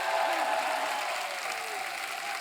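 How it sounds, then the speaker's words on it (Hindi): Studio audience applauding for team Circus on a comedy talk show: a dense, steady wash of clapping from a large crowd, loud and sustained throughout with no talk over it. "एक बार जोरदार तालियां हो जाए टीम सर्कस के लिए।"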